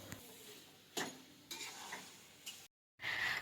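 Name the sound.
cooking shrimp and cabbage curry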